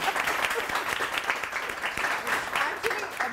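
A studio audience claps steadily for a few seconds, a dense, even wash of applause at moderate distance with no voices standing out.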